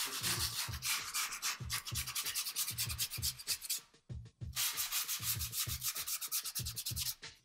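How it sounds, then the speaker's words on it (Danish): Skateboard grip tape edge is sanded with a cut-off grip tape offcut in quick rhythmic rasping strokes, close and steady, with a brief pause midway before the scraping resumes. "Specielt det sidste stykke, jeg har skåret af op på toppen her, er meget anvendeligt til lige at slibe den rundt i kanten."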